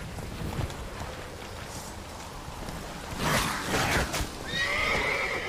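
Horse in The Witcher 3 galloping with a rhythmic clip-clop of hooves, then loud, shrill whinnies and neighs near the end, set over faint wind-like ambience.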